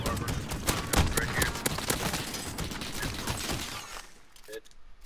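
Rapid automatic gunfire in a Call of Duty: Modern Warfare match, a dense, loud burst of repeated shots that keeps going for about four seconds before fading into quieter game sounds.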